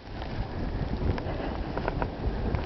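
Wind roars steadily and close in a December snowstorm, a continuous broadband rush with gusty buffeting against the microphone and no talk.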